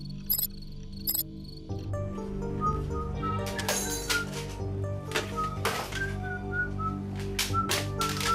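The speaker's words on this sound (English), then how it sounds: "I'm just whistling while I work" A person whistles a bright melody while working, the short tuneful notes near and clear over a soft background hum, with occasional clinks and clicks.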